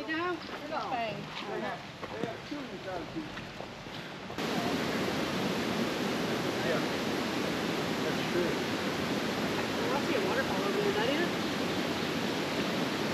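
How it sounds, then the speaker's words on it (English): A steady, loud rush of falling water from a waterfall on Mountain Fork Creek fills the clip, beginning abruptly after a few seconds of quieter outdoor sound with faint voices. "Is that the waterfall?"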